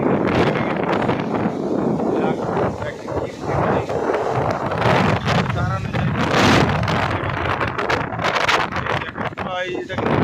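Heavy wind of Cyclone Remal roars and buffets the microphone in continuous gusts, with flooding around, while a person talks over the noise.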